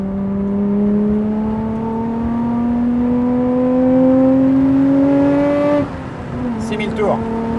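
A Nissan R34 GT-R engine revs steadily upward while driving, its loud rising drone climbing for several seconds before the throttle lifts and the pitch drops, with brief talk near the end.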